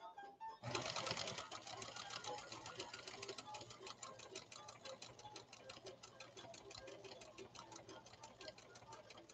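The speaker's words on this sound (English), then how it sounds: "Sewing an ornamental stitch like this with a size 100 harpoon needle is probably unheard of." A Pfaff Creative 1471 sewing machine with a size 100 harpoon needle sews an ornamental stitch, starting up and running in a steady, fast mechanical chatter of rapid needle strokes close by, continuing alone for several seconds.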